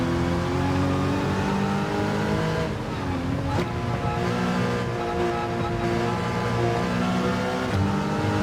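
A Porsche Cayman GT4 race car on a wet track, its engine droning loud and close with steady harmonic tones that dip and rise as it shifts and accelerates, with a hiss of spray from the tires.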